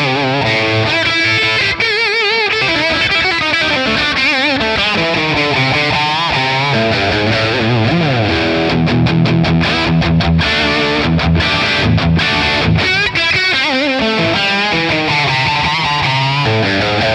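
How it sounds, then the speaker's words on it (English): A Friedman PLEX electric guitar amp plays a continuous, loud, distorted riff and chords drenched in plate reverb, with bright sustained notes and a few choppy rhythmic stabs, and no voices. "Let's try this one with a little bit of reverb. The plate reverb is always nice."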